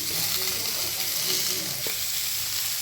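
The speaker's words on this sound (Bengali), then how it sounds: "তো সবজিগুলো আমি হালকা করে ভেজে নেব" Vegetables frying lightly in a pan before going into a thin rohu fish curry, a dense steady sizzle close up with faint stirring scrapes and one small knock.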